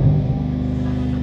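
Dodge Challenger 392 HEMI Scat Pack with launch control holding the revs at 3000 RPM, a steady, loud, deep engine drone held briefly and close.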